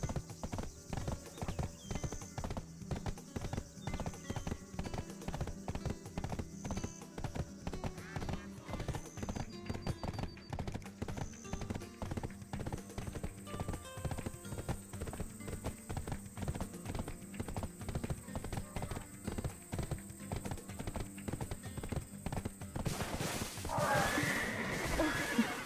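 Horse hooves clip-clop steadily in Black Desert Online, with repeated neighs and whinnies over a dense game soundscape and music for about 25 seconds, ending in a louder burst.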